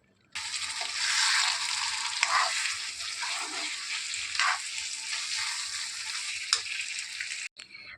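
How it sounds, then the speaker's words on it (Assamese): Tomato paste frying in a pan for a pork dish gives a loud, bright, continuous sizzle that starts abruptly and then cuts off, with a few stirring bursts. "বিলাহীৰ পেষ্টখিনি অলপ সময় ভজাৰ পিছত"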